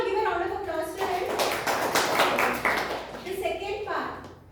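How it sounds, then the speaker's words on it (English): Schoolchildren clap together in a classroom, a fairly close burst of hand claps with children's voices and talk mixed in. "Can you all give a round of applause to them?"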